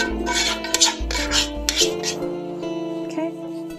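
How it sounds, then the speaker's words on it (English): A utensil scrapes and stirs baked ziti pasta with sauce in a baking dish, giving close rasping strokes and light clinks against the dish over a faint steady hum. "I'm gonna mix this around, make sure everything's coated."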